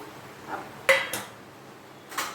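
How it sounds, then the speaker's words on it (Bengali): Tangra fish going into a pot of boiling fish curry with shol kochu: a few sharp metallic clinks and knocks against the pot, close by, with quiet gaps between them and no talking. "এবারে আমি মাছগুলোকে দিয়ে দিচ্ছি ঝোলের মধ্যে।"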